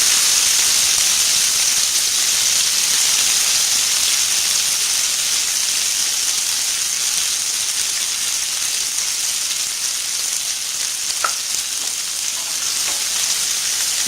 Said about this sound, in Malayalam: നമ്മൾ ആദ്യം വെളിച്ചെണ്ണയിലേക്ക് ഇടേണ്ടത് അരിഞ്ഞു വച്ചിരിക്കുന്ന മല്ലിയില.